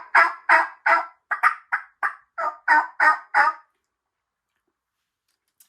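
A mouth-operated latex-reed turkey call imitates a turkey with a run of about ten sharp, raspy yelps in quick rhythm, close and loud, then silence.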